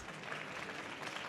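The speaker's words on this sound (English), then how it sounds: "let's go ahead and give our gentlemen a big round of applause" A brief, soft burst of audience applause at a SIGGRAPH 2025 event, even clapping from a crowd heard faintly for just over a second.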